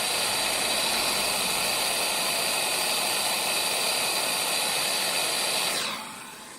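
Brazing torch heating a steel plate, a steady loud roaring hiss of the flame that holds evenly for several seconds, then drops off sharply as the torch is pulled away.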